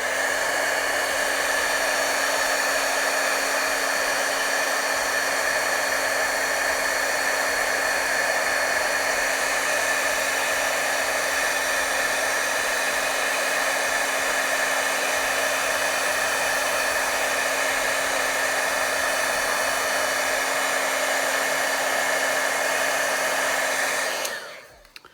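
A heat gun blows continuously to melt embossing powder, a steady close whirring fan roar with a constant hum that runs unbroken and then cuts off at the very end.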